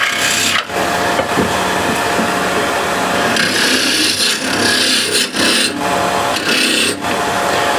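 Continuous rough scraping and rasping as a hand tool carves a hole into a piece of wood, loud and close, with brief pauses and shifts in texture between strokes.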